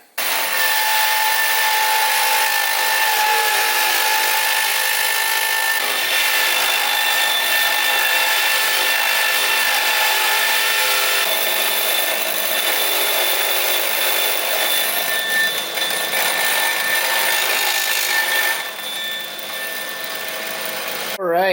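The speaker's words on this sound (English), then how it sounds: "So I got a little burr bit, and I think what I'm going to do is just trim these down, kind of oval them out" A burr bit grinding down a metal intake manifold flange for a Vortec 4200 to 2JZ swap, giving a continuous loud, high rotary whine and scraping rasp that runs nearly unbroken and eases slightly near the end.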